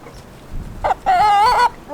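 Farm chickens at feeding time give a brief rooster-like call, a short cry followed by a longer drawn-out tonal crow, loud and close.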